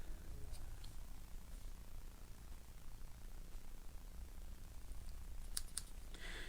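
Scissors snip the ribbon ends on a handmade card, a few quick close cuts near the end after several seconds of quiet room hum.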